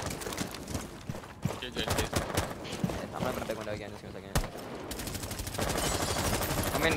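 Rapid bursts of gunfire crackle through a tactical shooter video game, with dense sharp shots repeating over several seconds and players talking faintly underneath.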